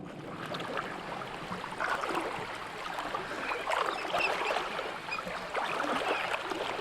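Cooper Creek in South Australia flowing steadily, a soft continuous wash of moving water with faint trickling, heard alone with no voices.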